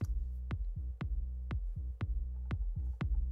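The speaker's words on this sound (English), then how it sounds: "Now let's go and just do our kick drum and our bass line by themselves." A kick drum and a bass line play together in a mix, with a steady beat of deep punchy kicks about every half second over a sustained low bass, heard alone.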